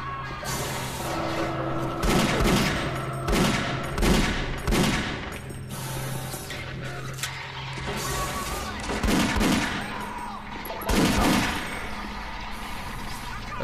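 Repeated gunshots and bursts of weapon fire from Doom 3 played in VR on a Meta Quest 3, loud and close, clustered in several volleys with heavy low booms over a continuous game backdrop.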